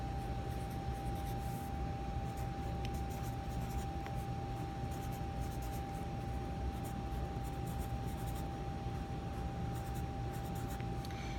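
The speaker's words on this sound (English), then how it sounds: "So I'm going to write it 3 times." Pen or pencil writing numbers by hand in a maths lesson, a steady soft scratching that runs continuously over a constant background hum, with no talking.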